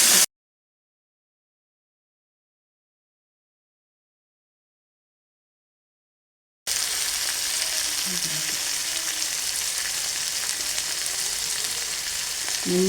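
Tomatoes frying with onions in a pan for rava kichdi give a steady, close sizzle with faint stirring scrapes. The sizzle follows a brief burst and several seconds of silence.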